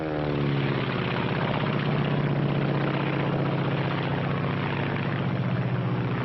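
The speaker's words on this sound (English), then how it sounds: "This is the Japanese Zero." Japanese Zero fighter aircraft engine droning loud and steady, a continuous propeller roar with a low throbbing pulse and no talk over it.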